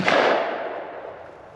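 A single loud rifle shot aimed at a Tannerite target booms outdoors and then fades in a long, rumbling decay.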